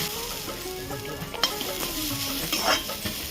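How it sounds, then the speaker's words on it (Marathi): Coconut dry-roasting in a pan for Mangalorean chicken sukka, with a steady close dry crackle, scraping stirs and a few sharp spoon clinks against the metal. "खोबरं चांगलं भाजून जाडसर वाटून घेणार। भाजून घेते।"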